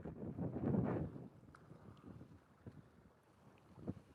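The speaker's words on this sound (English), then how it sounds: "There's like no break from the wind here either." Strong wind buffets the microphone on an exposed lake bank, a low rumbling roar that swells loudest early on and then settles into gusty, uneven bursts.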